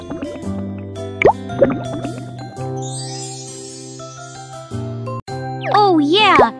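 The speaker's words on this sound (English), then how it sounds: "Now pour them into the mold." Cake batter poured into a mold in the Little Panda's World video game, bright tinkling and dripping cartoon effects over a steady musical backdrop, with chirpy rising tones near the end.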